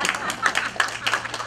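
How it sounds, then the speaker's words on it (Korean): Audience clapping at a memorial ceremony in Korea, a fast, steady patter of many hands close by as a guest is introduced, with a faint voice underneath. "이제 박수 좀 부탁드립니다."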